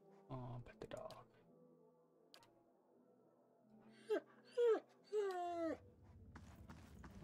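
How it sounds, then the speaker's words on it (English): Dog whimpers in the Pillars of Eternity video game, three short rising whines close together, preceded by quieter game sounds and a voice talking. "Oh, pet the dog."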